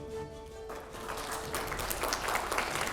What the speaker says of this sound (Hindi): थोड़ा जोरदार तालियों के साथ में